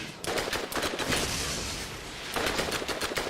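Rapid gunfire from a weapon in the video game Borderlands during a fight with Guardians: dense, loud bursts of shots that ease into a brief lull, then return in a fresh volley.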